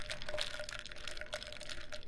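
Ice water is poured from a pitcher into a glass, a faint, close trickle with small clinks and cracks from the ice, brief and soft.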